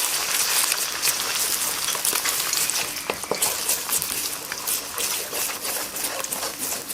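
Egg stir-frying in a hot pan with Chaiya vegetables for a keto dish, a steady loud sizzle with scraping and stirring strokes running throughout.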